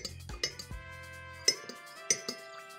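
A spoon stirs a bay leaf face mask with olive oil in a small dish. Brief metallic clinks and taps against the container come at an irregular pace, close and fairly quiet, with no talking.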